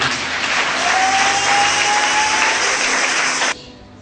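A church congregation bursts into loud, dense applause acclaiming Jesus, a sustained roar of clapping that cuts off abruptly near the end, leaving quiet room tone.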